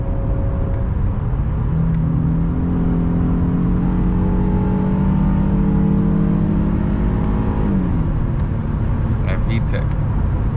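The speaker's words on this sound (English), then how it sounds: "Try a little acceleration." A 2022 Honda Passport TrailSport with a VTEC engine accelerates, heard from inside the cabin as a loud rising engine drone that climbs in pitch over several seconds, then shifts and drops near the end, with no talking.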